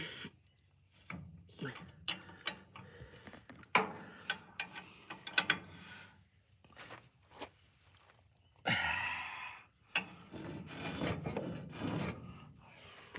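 Ratchet wrench loosening and tightening bolts on a New Holland Super 77 prototype baler, a close, irregular series of rasping clicks and metallic scrapes with brief pauses, no talk.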